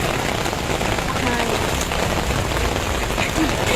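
Steady rain patters on a surface as a girl stands out in it after a second soaking, a dense, even hiss that lasts throughout with no clear gaps.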